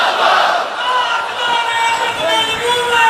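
A large gathering at a religious speech chants a slogan back in unison. The voices roar loudly and continuously, with no pause, as a mass of voices shouting together.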